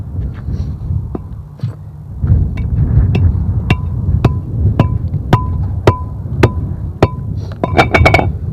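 Sharp metallic clinks of a 6-gauge wire lug being crimped by striking it with a car brake rotor, a steady series of about a dozen ringing hits over a low rumbling background, quickening at the end.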